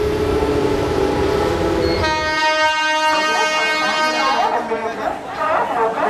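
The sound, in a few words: fast train passing railway platform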